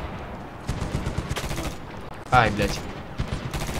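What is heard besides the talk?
machine gun fire in Medal of Honor video game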